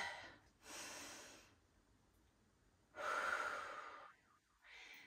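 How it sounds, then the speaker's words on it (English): Slow, deep breaths during a prenatal Pilates session: a long airy inhale, a pause, then a strong breathy exhale, close and clear in a quiet room, with a softer breath starting at the end. "I want you to take a deep breath here."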